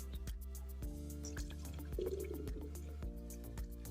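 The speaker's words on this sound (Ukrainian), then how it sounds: "Набрали трішки води." Water poured into a container while mixing a garden spray, with a steady liquid trickle broken by regular drips and splashes, close and quiet, with no talk.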